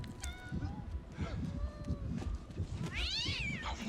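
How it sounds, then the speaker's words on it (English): A cat meows in a scene from a vampire TV drama, with short rising-and-falling cries standing out over steady background music and dialogue, ending in a louder wavering yowl. "What did the cat do to you"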